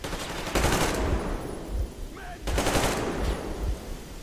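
Bursts of rapid gunfire in Metro Exodus: two loud clusters of shots roughly two seconds apart, close and harsh, with a short quieter gap between them.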